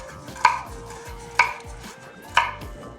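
Macadamia nuts being rough-chopped with a knife on a board, three sharp, evenly spaced chops about a second apart, close and clear with no voices.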